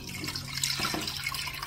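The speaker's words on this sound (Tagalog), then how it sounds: "At lagyan natin ng tubig." Water pours into a pan holding pork ribs about to be boiled, a short, close splashing rush with a couple of sharper splashes midway.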